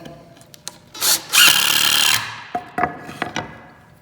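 A screw is driven into the corner of a trail camera bear box: one close, whirring burst of a little over a second, framed by sharp clicks and knocks of handling before and after.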